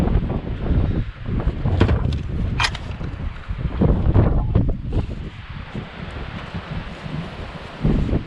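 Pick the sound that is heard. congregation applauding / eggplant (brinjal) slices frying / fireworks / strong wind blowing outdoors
strong wind blowing outdoors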